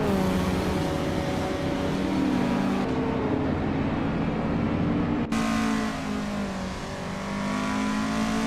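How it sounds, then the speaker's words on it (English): A 1976 Fiat 147 engine drones steadily in a racing video game, holding a continuous buzzy hum. It shifts pitch on upshifts, with one abrupt change partway through and no talking. "Bjorn Art is driving a 1976 Fiat 147, which is quite a compact and quirky choice"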